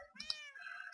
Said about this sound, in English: you can hear some cats in the background